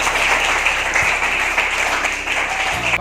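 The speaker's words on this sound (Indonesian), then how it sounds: "Tepuk tangan dulu." A classroom of pupils claps for a classmate during a primary-school lesson on magnets, a steady dense patter of hands that carries evenly through the whole stretch, with a faint hum underneath.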